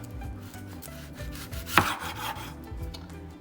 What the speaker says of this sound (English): So what you do with the onion is just first you cut the stem